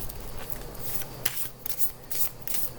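A tarot deck is shuffled by hand close up, cards riffling and slapping together in quick repeated bursts at a steady pace.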